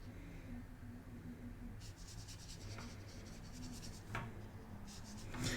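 A brush inks a graphic novel drawing on paper, making faint, close scratchy strokes that come in short bursts over a quiet background.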